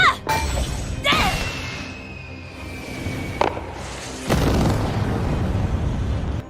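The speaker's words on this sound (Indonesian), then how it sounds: "bomnya meledak" A bomb in the anime Shangri-La Frontier explodes after being struck with a hammer, giving loud shattering booms with a sharp burst, a lull, then another heavy blast that rumbles on to the end.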